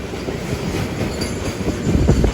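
Rolling train noise from inside an express sleeper coach running alongside a goods train on a parallel track near Faridabad, a loud, dense rumble with faint clicks of wheels over rail joints, close and continuous.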